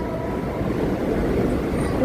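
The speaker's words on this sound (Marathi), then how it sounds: "तीच एक्सप्रेस ट्रेन आता जस्ट इकडं बोरिवलीवरून आपल्या लोकल ट्रेनची ओव्हरटेक होणार आहे" The Karnavati Express overtaking a fast local train at Borivali on the Churchgate–Virar line makes a steady, close, loud rail rumble that continues evenly without talk.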